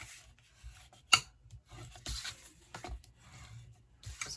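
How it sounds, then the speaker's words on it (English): A folded paper envelope for a handmade card is burnished with soft, short rubbing strokes and one sharp scrape, close and quiet with pauses in between. "you're going to want to burnish that envelope just so it closes up better"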